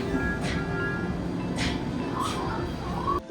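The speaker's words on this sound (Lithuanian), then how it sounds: "Atvažiuojamas traukinukas." A train pulls into Kawaguchiko station in Japan, a steady low rumble and mechanical drone filling the scene, with faint tonal whines and brief noise bursts over it.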